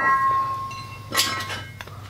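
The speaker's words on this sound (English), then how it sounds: "What I like to do is just hit it in this corner, and it just comes right off." Stuck rear brake rotor on a 2013–2015 Nissan Altima struck to break it free, giving a sharp metallic hit near the middle followed by a few lighter knocks, heard close up against a steady background hum.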